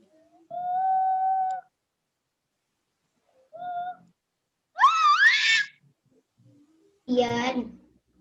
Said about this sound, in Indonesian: Ngapain teriak-teriak?